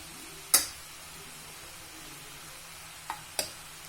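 Drained mushrooms go into a pan of frying onions: a quiet background sizzle punctuated by three sharp, brief clatters of food and utensil hitting the pan.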